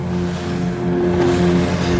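A boat with two engines sits at a harbour, its motors giving a loud, steady droning hum with tonal whine throughout, mixed with low rumbling and no speech.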